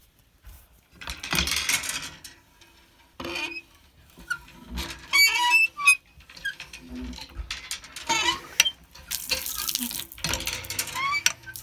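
Water splashing and pattering from a hand pump's spout, drawing well water at a campsite, in uneven bursts, with metallic creaks and a few quiet voices in between.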